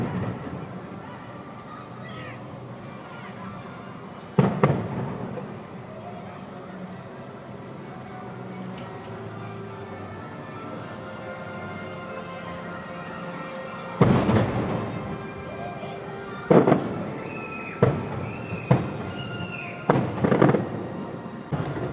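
Fireworks over Magic Kingdom viewed from a high balcony at the Grand Floridian resort, heard as distant booms and sharp cracks, scattered at first then clustered in a quick volley, set against background park music.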